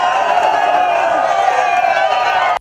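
A large crowd of protesting timber dealers shouts from a Kampala suburb street in a loud, dense, continuous roar of many voices that holds steady before cutting off abruptly.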